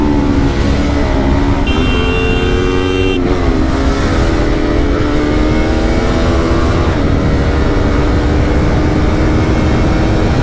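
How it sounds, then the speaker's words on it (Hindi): A loud 300cc motorcycle engine drones and revs up close in heavy traffic, its pitch rising and falling over steady road roar, with no one speaking. "आवाज सुनो, क्या सेक्सी आवाज है 300 की यार"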